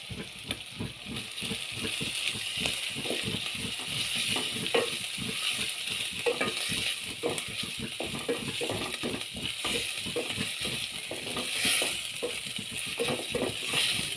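Minced meat and Royco seasoning cubes fry in a pot for jollof rice, giving a steady sizzle broken by rapid, rhythmic scraping and rattling as the mixture is stirred.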